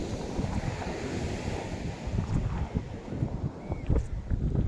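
Sea waves and strong wind, a steady rushing roar of surf with gusts buffeting the microphone, continuous and fairly loud, with no speech.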